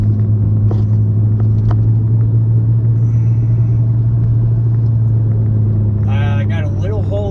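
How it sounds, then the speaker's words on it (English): Steady low rumble of tire and road noise from a 1998 Lexus GS cruising at about 50 mph, continuous and close, with a brief voice near the end. "It just sounds like normal tire and road noise."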